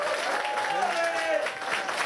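An audience claps together at a healthcare workers' sports games event in Nitra, a dense steady patter of applause lasting a couple of seconds, with voices and faint tonal sounds mixed in.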